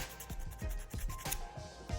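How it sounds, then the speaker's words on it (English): Rhythmic rubbing strokes of hand sanding on a wooden blank, a steady back-and-forth rasp repeating about every quarter second, close and quiet. "So I find it easier to like sand for a while in that section"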